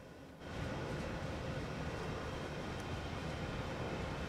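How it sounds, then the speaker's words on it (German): A train rolls past in a railway simulator, a steady broadband rumble that rises sharply after a brief quieter start and holds loud and close to the end, with no talking. "Oh, da kommt ein Zug vorbei."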